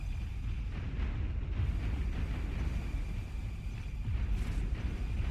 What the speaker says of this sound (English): Both players just shooting long-range projectiles at each other.